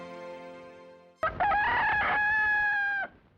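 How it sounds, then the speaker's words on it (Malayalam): A long-tailed rooster, the emblem of Udaya Studio, crows once loudly and clearly right after a sustained musical chord cuts off, the crow holding steady for nearly two seconds before stopping abruptly. "ഈ അങ്കവാലൻ കോഴി ഉദയ സ്റ്റുഡിയോയുടെ അടയാള ചിഹ്നമായിരുന്നു"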